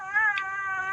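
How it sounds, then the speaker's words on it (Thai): A black kitten with a beckoning, hooked tail gives a single clear, close meow, sustained and slightly wavering, in a quiet setting at a temple. "น้องดำหางกวักร้องแง่ๆอยู่นี่คนเดียว"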